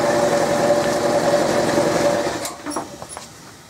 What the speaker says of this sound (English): I hope shut off the air compressor